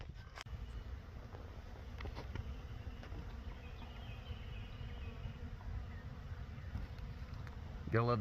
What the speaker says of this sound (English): the bees are loving it too